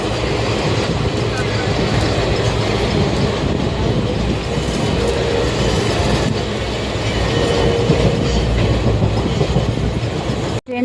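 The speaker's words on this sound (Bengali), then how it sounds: "ট্রেন চলে যাচ্ছে।" A train rolls past on a sunny platform, a loud continuous rumble with a rhythmic rattle of carriages that holds steady throughout before cutting off abruptly at the end.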